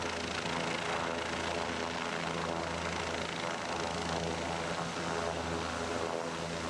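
A helicopter flies during a Kimberley coastal cruise, giving a steady, loud, continuous rotor and engine drone that holds level throughout with no pause.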